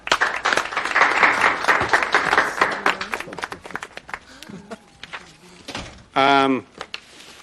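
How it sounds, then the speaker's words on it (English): Applause fills a courtroom as a crowd claps steadily for several seconds, loud and dense at first, then thinning into scattered claps. Voices speak briefly near the end. "The court wants to take the time to applaud her for that."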